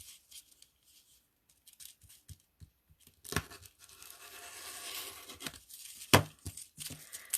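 Paper being cut by hand for a handmade floral card, a quiet stretch of small snips giving way to denser scratchy tearing and slicing strokes with a sharp louder crack near the end, close by and without talk.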